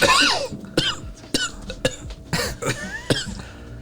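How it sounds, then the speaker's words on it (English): A string of sharp, separate coughs, about seven in quick succession, close and loud with short gaps between them. "Obligatory coronavirus cough."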